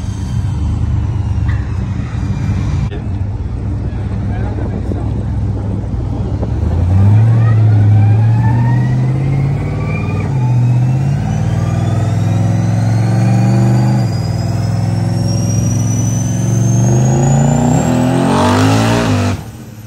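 The twin turbo engine of an SS Trailblazer revs hard on a dyno, droning loud and steady, then climbing in pitch through a long pull before cutting off sharply at the end.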